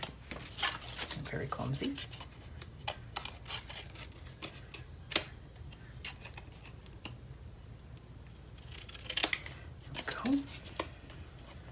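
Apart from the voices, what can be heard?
scissors trimming paper pieces for mini album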